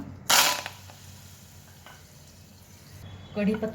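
Curry leaves fry in hot oil for a Marathi-style chivda, a loud sizzling burst when they drop in, fading to a low crackle before a second sharp splutter near the end.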